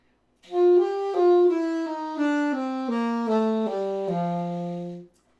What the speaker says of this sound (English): you're going to play the root, go up to the second note of the scale, and then down the bebop scale